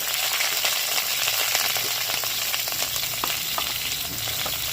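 Cauliflower pieces fry in hot oil in a pan, a loud, continuous dense sizzle with scattered crackles and pops throughout, heard close up with no talking.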